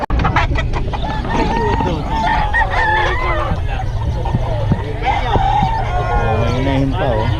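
Chickens at a festival expo cluck and a rooster crows loudly nearby, over a busy crowd and continuous close talk.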